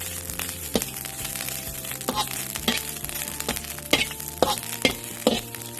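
Winged termites being dry-roasted and stirred in a pan with nothing added yet, a steady sizzle and rustle broken by repeated sharp scraping strokes of the spatula every half second or so, close up with no talking.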